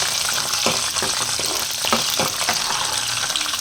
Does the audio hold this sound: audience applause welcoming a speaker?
no